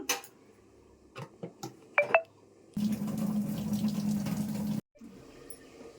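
Starch water is drained from cooked rice in a home kitchen: a few clicks and knocks from the pot and lid, then about two seconds of steady pouring liquid, then near silence.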